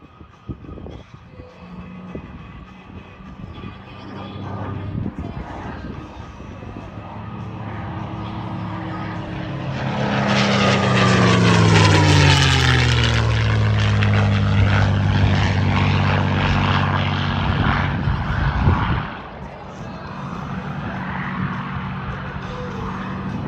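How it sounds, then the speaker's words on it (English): A P-51 Mustang approaches on a low flat pass at an air show and roars past close, engine pitch dropping sharply as it passes, then fades into crowd and ambient noise. "Here comes Jimmy in that beautiful P51. He's going to give us a flat pass."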